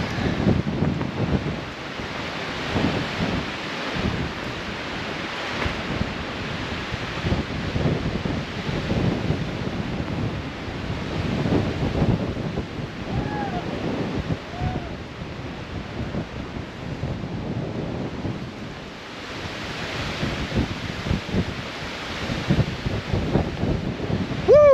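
Strong gusting wind buffets the microphone at the Ravens Point lookout on the Fiery Gizzard Trail in Tennessee, a steady loud roar with surging rushes and no voices.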